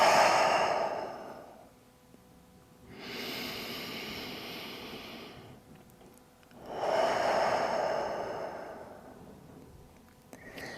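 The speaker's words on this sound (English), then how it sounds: "take some big breath in through the nose and out through the mouth" Deep slow breaths in through the nose and out through the mouth during a yin yoga session, alternating long airy inhales and exhales close to the microphone, two full cycles with quiet gaps.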